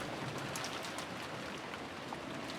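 Rain sound effect from the visual novel Umineko: steady, dense rainfall pattering without pause, faint and even, with no voices.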